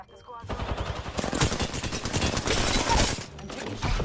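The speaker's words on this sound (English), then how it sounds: "Shots fired." Rapid bursts of automatic gunfire in the battle royale game Apex Legends, loud and close, with rattling volleys running almost continuously and a brief lull near the end.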